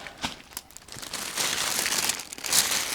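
Plastic wrapping on a tote bag crinkles and rustles as it is pulled off by hand, a few sharp crackles first, then a louder sustained stretch of crumpling close by.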